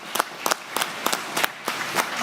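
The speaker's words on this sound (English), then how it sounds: "I think you deserve a round of applause for all you've done to get us over here" Sparse, distinct handclaps come at a fairly steady rhythm, about six strikes over two seconds, moderately faint, as a small audience at a climate fund signing event gives a round of applause.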